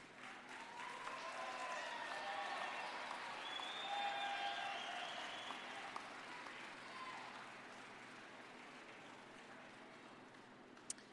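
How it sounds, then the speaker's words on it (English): Graduates at a spring commencement ceremony applaud their parents, family and friends, a large crowd's sustained clapping filling a hall, swelling early and then tapering off gradually, with no talk over it. "I invite you to turn and applaud your parents, family, and friends who have supported you through the years"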